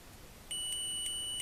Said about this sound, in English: So it should go beep.